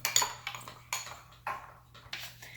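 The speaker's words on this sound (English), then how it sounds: "Okay, now it's much more melted. Let's mix it up real quick." Spoon scraping and clinking against a bowl while melted chocolate for truffles is mixed, in several separate sharp strokes with short pauses between them, close by and without talk.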